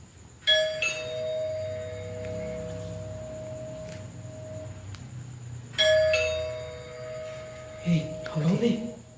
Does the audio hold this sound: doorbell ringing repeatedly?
yes